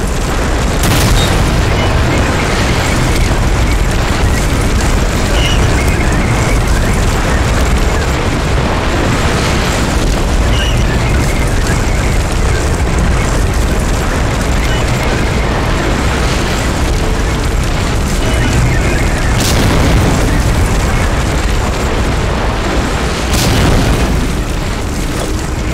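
Tank cannon explosions boom in the Medal of Honor: Allied Assault video game, loud and dense, with heavy blasts and rumbling battle noise filling the whole stretch, and a few sharper hits standing out.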